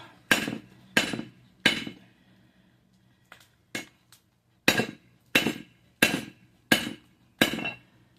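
A blacksmith's hammer strikes hot metal on an anvil to thin it, giving about ten loud, ringing blows close by in uneven groups with short pauses, plus a few light taps and no talking.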